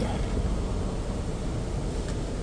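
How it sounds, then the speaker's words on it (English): A Ford F-150 with a 3.5 non-turbo engine idles steadily after a radiator replacement, a constant low rumble filling the short stretch with no voices over it. "Car's running."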